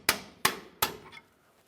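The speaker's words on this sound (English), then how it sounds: "It's common to use a hammer and punch to do this." Three sharp metallic hammer strikes on a punch, working on the front lower control arm of a 2005-2010 Dodge Dakota, ring out at an even pace, each clang decaying quickly, the last trailing a brief ring.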